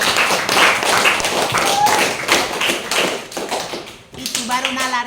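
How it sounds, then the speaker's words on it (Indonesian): A crowd at a job training session bursts into clapping, a dense patter of hand claps that runs for several seconds before fading, with a voice speaking briefly at the end. "Tepuk tangan untuk Mita Komba."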